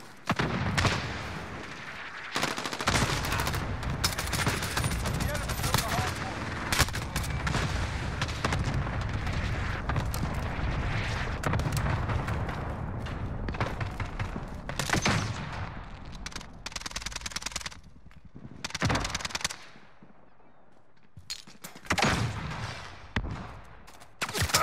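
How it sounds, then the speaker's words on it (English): Call of Duty Modern Warfare battle with a cluster strike: dense bursts of explosions and rattling gunfire pound continuously for most of the stretch, then break into scattered loud blasts separated by brief lulls near the end. "Allied cluster strike inbound."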